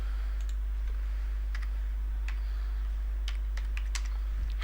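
A computer keyboard clicks as a command is typed for a Nextcloudpi setup on a Raspberry Pi, with scattered single keystrokes and short bursts over a steady low hum, close and clear, with no speech.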